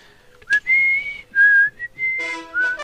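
A person whistles a wavering, melodic tune close up, in several short phrases with brief gaps between notes and no talking.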